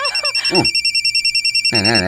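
A cellphone sounds with an incoming-call tone, a steady pulsing ring repeating rapidly. A brief voice cuts in at the start and again near the end.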